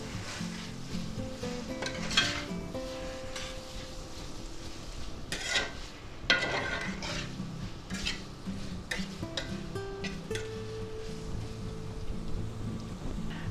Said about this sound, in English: we'll go ahead and mix that around until we get a nice even color